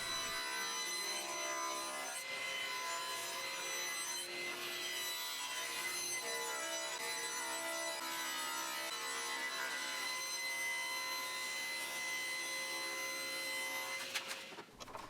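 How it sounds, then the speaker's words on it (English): A table saw rips wood pieces down to their final widths for a dartboard cabinet, its blade whining in a loud, steady cut that holds for about fourteen seconds before winding down at the end. "I can cut all the pieces down to their final widths at the table saw"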